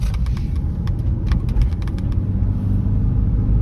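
Low, steady road rumble heard from inside a moving 2009 Toyota Prius, with faint clicking ticks over the constant drone.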